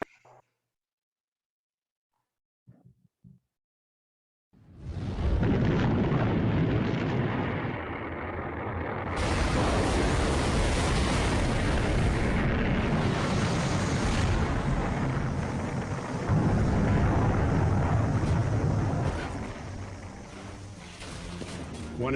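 A Titan rocket failure explosion plays back as a sudden heavy blast after near silence, rolling into a long, loud, sustained roar and rumble that swells again partway through.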